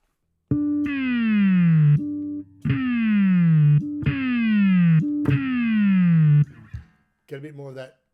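A bass guitar runs through an HX Stomp with pitch shift and distortion, playing four sustained distorted notes that each dive downward in pitch, followed by a brief squealing tail; loud and close.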